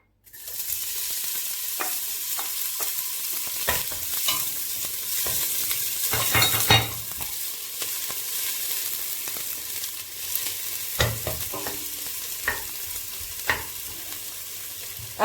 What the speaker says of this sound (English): we start by sauteing our onion